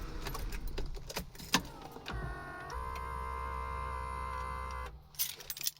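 A steady electric motor whine as an Acura Legend's steering column retracts after the car is shut off, running about three seconds, shifting pitch partway through, then cutting off, with a few mechanical clicks before it starts.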